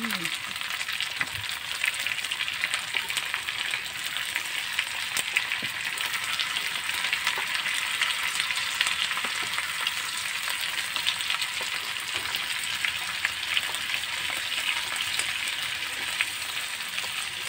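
String beans, half a kilo, sizzle and fry steadily in a hot pan for adobong sitaw, a dense continuous crackle with small pops and occasional stirring clatter, close and fairly loud with no talking.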